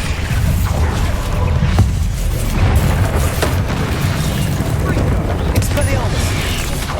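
Bombarda explosion spell in Hogwarts Legacy, heavy booming impacts and crashing bursts repeating through a loud, busy combat mix.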